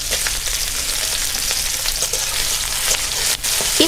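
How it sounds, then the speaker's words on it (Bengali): Green chillies, garlic and chopped onion sizzle steadily in hot oil, a dense continuous frying hiss with small crackles throughout, close and fairly loud, no talking. "একটু ভাজা ভাজা করে নেব।"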